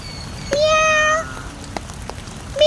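A kitten meows outdoors in the rain: one loud, drawn-out meow near the start, then a quiet stretch with faint rain patter, and another meow beginning at the very end.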